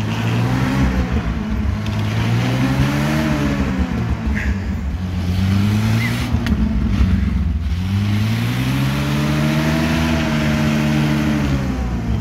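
A UAZ off-road vehicle's engine revs hard and close, rising and falling in long repeated surges of throttle over a steady loud drone.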